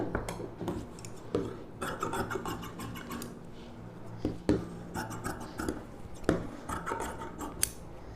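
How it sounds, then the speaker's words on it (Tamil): Scissors snip through blouse fabric while cutting a model designer neck shape, giving a close, crisp series of irregular cuts and rasping slides with short pauses between strokes and no talking. "இதில் வந்து இந்த ஷேப் அளவுக்கு அப்படியே கட் பண்ணி எடுத்துருங்க"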